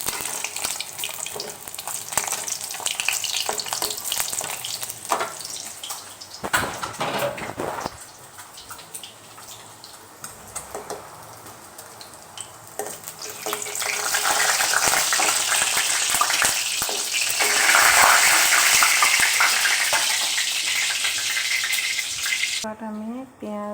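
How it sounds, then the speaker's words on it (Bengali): Egg korma cooking in a pan with onion and chili, frying and stirring clatter running throughout with loud sizzling bursts and some watery sounds, a brief quieter patch midway, no one talking. "দেখেন আমি ডিমের কোরমা রান্না করতেছি।"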